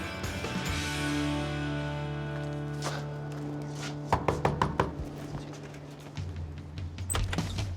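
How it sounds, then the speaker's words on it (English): A series of knocks on a door, sharp and close, coming in short irregular bursts with a low hum in the background. "I think I'm going to just knock on the door."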